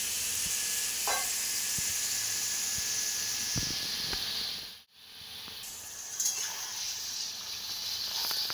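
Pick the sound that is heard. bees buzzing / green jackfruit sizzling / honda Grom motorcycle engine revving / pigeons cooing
green jackfruit sizzling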